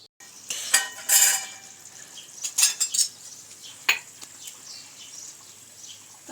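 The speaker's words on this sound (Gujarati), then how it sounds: "અને ડીશ ઢાંકી થોડી વાર માટે થવા દઈશું." Metal clatters as a lid settles over a pan of stuffed brinjal curry, giving several short, bright clinks and rattles close by, then a quiet pause.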